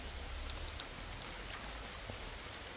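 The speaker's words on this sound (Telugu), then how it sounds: "చుట్టుకి వాన పడిపోతుంది" Rain falls all around an outdoor cooking spot in a soft, even, continuous patter and hiss, quiet and distant-sounding, with a couple of faint drip ticks and no voices.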